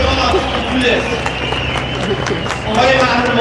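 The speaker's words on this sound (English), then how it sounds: "Please give them a big round of applause." Crowd clapping at a Free Iran rally in Toronto, a continuous loud patter of applause with a voice talking over it.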